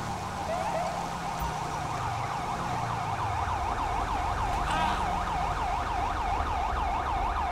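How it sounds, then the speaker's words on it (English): A police siren wailing in GTA 5 on a foggy afternoon in Paleto Bay, its steady rising and falling tone continuous and fairly loud over low traffic rumble throughout. "I hear his siren, so he must be up here on the right."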